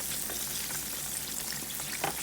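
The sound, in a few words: chicken frying in oil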